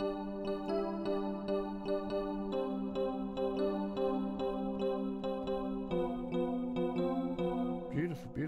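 Digitalism 2000, a retro synthesizer app on iOS, plays a steady, loud run of bright sustained notes with rhythmic pulses, ending in a brief swooping flourish; no one speaks over it.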